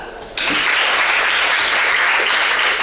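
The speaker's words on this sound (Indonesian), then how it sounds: "Ya, stop, tepuk tangan." A classroom full of people claps steadily after a brief quiet start, a dense, loud burst of applause sustained to the end.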